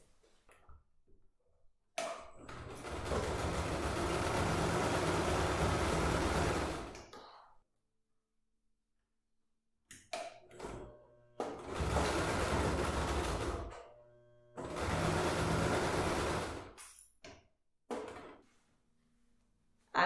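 A sewing machine stitches along the folded bottom seam of a small fabric toiletry bag, running in long steady buzzing bursts separated by short pauses.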